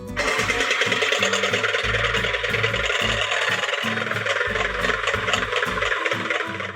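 An electric mixer beats heavy cream in a mixing bowl on a low setting, making a close, steady motor whir with a rhythmic rattle and chatter from the beaters.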